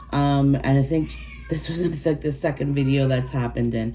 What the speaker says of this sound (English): If you hear meowing in the background, it's my little girl cat. She's in heat.